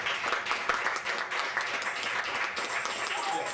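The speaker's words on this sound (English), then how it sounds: "That deserves a round of applause." Audience applause at a Cajun-themed comedy show in New Orleans, Louisiana: a dense, even wash of clapping from a crowd that holds steady for the whole few seconds.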